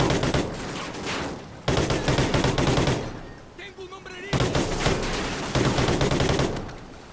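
Automatic gunfire from Call of Duty: Ghosts campaign gameplay, loud close machine-gun bursts in several long sustained volleys separated by short pauses.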